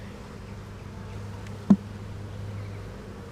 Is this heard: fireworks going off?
no